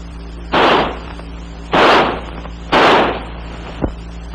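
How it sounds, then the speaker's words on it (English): Three separate, loud semi-automatic shots from an XM16E1 5.56mm rifle, spaced about a second apart, each with a short sharp crack and a trailing echo, plus a faint click after the last. "By closing the bolt and turning the selector lever to semi, the rifle will fire semi-automatically."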